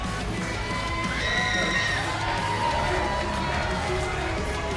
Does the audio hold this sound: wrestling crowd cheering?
yes